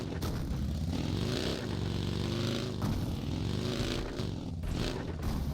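A vehicle in a video game drives past with a steady, moderately loud engine drone whose pitch rises and falls in waves, plus some scraping and clattering textures throughout.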